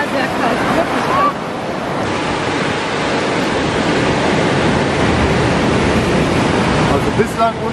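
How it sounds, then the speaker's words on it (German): Ocean waves break and wash continuously at Praia Grande, a surfing beach in Portugal. The roar of surf is loud and steady, with wind buffeting the microphone and no speech. "Hier vorne, die Wellen sind absolut geil zum Surfen."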